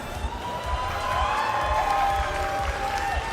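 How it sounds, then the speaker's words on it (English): An audience at a Pokémon championship event applauds and cheers in a steady, dense wash of clapping that fills the large hall. "let's give one final round of applause now for the lovely staff and crew making this lovely"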